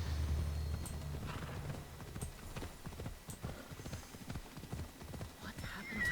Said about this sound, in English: but this is specifically called out as a separate horse, Abraxas.